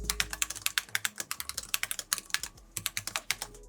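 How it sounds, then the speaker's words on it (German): Rapid keystrokes on the low-profile tactile switch keyboard of an XMG NEO 17 gaming laptop, a close, crisp stream of clicks in an uneven rhythm with no voices. "Wie sich die Tastatur anhört?"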